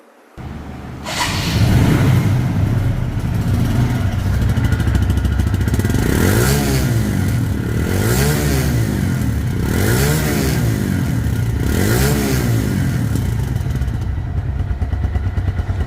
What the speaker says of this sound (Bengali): গাড়িটির সাউন্ড সম্পর্কে আসা যাক সাউন্ড শুনলে বুঝতে পারবেন যে ইঞ্জিন কোয়ালিটি কেমন আছে